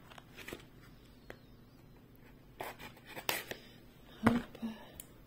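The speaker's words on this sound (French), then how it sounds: "je vais prendre une paire de ciseaux." Scissors cut open a cardboard parcel in a few close, scratchy snips and rasping strokes, with faint rustling in between against a quiet room.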